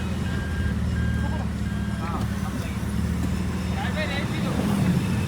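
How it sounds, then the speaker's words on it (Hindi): A car backing up gives a series of thin electronic reversing beeps in short regular bursts over a low, steady engine hum, while someone talks nearby. "1 मिनट पीछे कर लूँ गाड़ी थोड़ी।"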